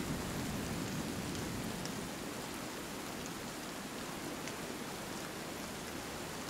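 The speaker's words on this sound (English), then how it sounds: "Looks like it's still raining" Steady rain hisses in the survival video game Sons of the Forest, an even, close wash of falling drops with no voices that eases slightly after the first couple of seconds.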